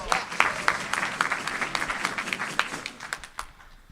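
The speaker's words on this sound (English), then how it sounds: "Clap it up for these people!" A Rotary Club meeting crowd claps in a lively burst, individual claps distinct and close, the applause thinning and fading out toward the end.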